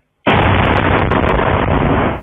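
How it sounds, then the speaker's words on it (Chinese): A Russian air strike in the Donetsk region sounds as one loud, close explosion that erupts suddenly and roars for about two seconds before cutting off. "顿内茨克至少3个城市同时惨遭狂轰猛炸"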